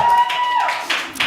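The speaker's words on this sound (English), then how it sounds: "that was easy to get a cheer for" Audience at a Neon Lit reading breaks into cheers and scattered applause after a thesis reading, a loud, bright burst of whoops over clapping.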